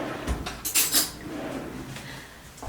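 Metal cutlery rattling in a kitchen drawer as a spoon is fetched, a few bright clinks and jangles bunched in the middle, close and fairly clear over quiet room noise.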